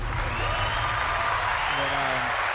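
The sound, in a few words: audience applause and cheering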